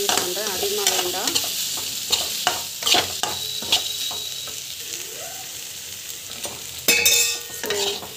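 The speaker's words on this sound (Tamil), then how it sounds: "அதுவும் வந்து நல்லா வதங்கட்டும்" Chili powder and cumin powder sauté in a hot pan, with a steady sizzle under repeated scraping and clacking strokes of a spoon stirring close by.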